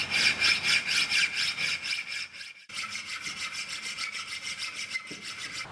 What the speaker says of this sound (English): The sharpening notch that I'm filing in right now